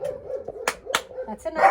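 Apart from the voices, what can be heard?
dogs barking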